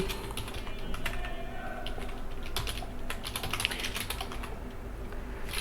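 Tags are typed by hand on a computer keyboard, a fast, irregular run of close, crisp key clicks that continues steadily with no talk.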